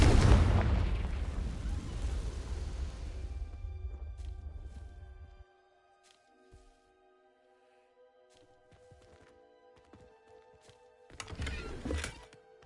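The Confringo blasting spell in Hogwarts Legacy erupts in a loud booming explosion that rumbles and decays over several seconds, followed by quiet ambience, faint tones, then a second, shorter blast near the end.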